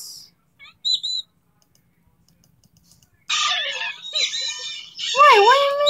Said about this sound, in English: Wait, what do you mean the level failed?